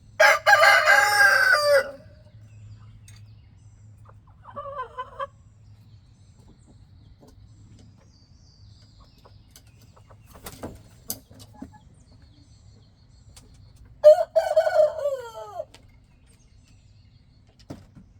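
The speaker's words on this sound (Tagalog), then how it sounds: "tilaok ng tilaok yung mga manok na yan" Leghorn chickens in a backyard coop: a loud rooster crow opens, followed by scattered soft clucks and a second crow later, with quiet stretches between calls.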